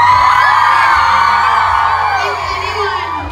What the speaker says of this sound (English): can we get a round of applause for how beautiful she looks?